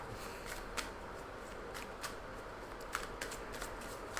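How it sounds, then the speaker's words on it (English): Tarot cards are shuffled in a quiet room, giving a faint, steady papery riffle with a few soft, scattered flicks and taps over several seconds. "let's get some clues from the cards, shall we? Give them a bit of a shuffle-uffacus."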